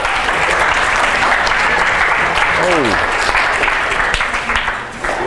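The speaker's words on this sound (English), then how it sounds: "Thanks for the claps." A live audience claps loudly and steadily for a performer, a dense, continuous wash of applause that eases slightly near the end, with a brief voice heard over it.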